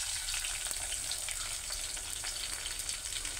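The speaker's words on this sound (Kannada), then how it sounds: "ಈರುಳ್ಳಿನೂ ಸ್ವಲ್ಪ ಫ್ರೈ ಆಗಲಿ." Onions frying in a pan with whole spices for capsicum pulao, a steady dense sizzle with faint crackles and stirring, close and continuous, no voices.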